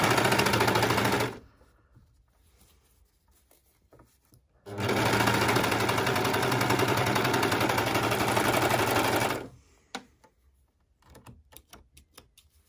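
Overlock serger stitching a shoulder seam on a T-shirt, running in two loud, steady bursts, the first brief and the second about five seconds long, separated by quiet gaps, with faint handling noises at the end.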